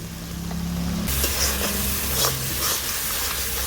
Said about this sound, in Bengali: মশলাটাকে এবার বেশ কিছুক্ষণ ভালো করে আমি কষিয়ে নেব।